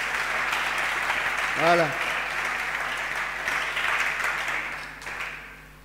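A church congregation claps and applauds together in steady, dense applause that holds through the whole stretch, with a voice speaking briefly over it.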